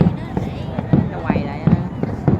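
New Year 2024 fireworks bursting over Can Tho, a quick run of repeated booming thuds at a steady pace, with people's voices chatting over the explosions.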